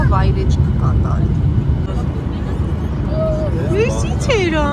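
Constant low roar inside an airliner cabin as it prepares to land at Yerevan, a heavy engine and air rumble under voices talking nearby throughout.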